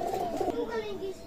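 Pigeons in a Rafiq Pigeon loft, Pakistani high-flying breed, cooing in low rolling calls close by, with faint background voices.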